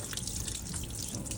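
Pasta water for a Spanish sardines pasta draining through a strainer, a steady close dripping and trickling of water in a kitchen sink, continuous and fairly quiet.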